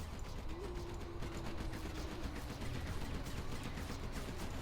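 Rapid Gatling tank cannon fire from the China faction in C&C Zero Hour, a dense continuous rattle of shots in a busy real-time strategy battle alongside other mechanical combat noise, steady and moderately loud throughout.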